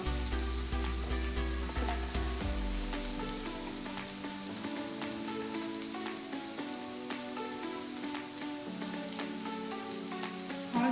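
Onions sautéing with a little salt in a pan, a steady dense sizzle and crackle running throughout, with faint utensil clinks and a low background hum.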